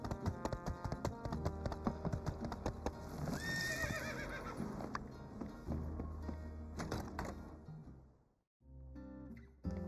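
In the video game My Time at Sandrock, a horse gives a loud whinny over rhythmic clip-clopping hooves, with scattered game tapping and clicks, then a brief drop to silence before ambient sound resumes.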